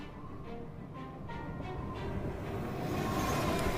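Train in an animated RWBY episode set in a snowy place: a steady, rolling rail rumble with rhythmic clacks early on, building slightly louder toward the end, heard alone.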